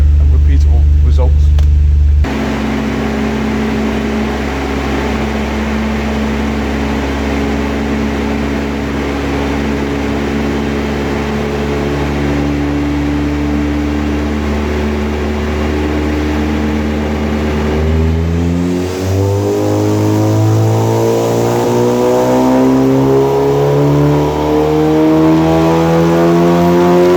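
Tuned Stage 2 Audi S3 8V engine revving hard on a dyno in front-wheel-drive mode, a loud sustained drone that climbs steadily in pitch toward the end, with talk over it.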